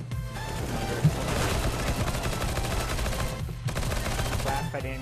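Rapid gunfire rattles in Counter-Strike: Global Offensive, dense repeated shots layered over a continuous loud game soundscape with only brief dips.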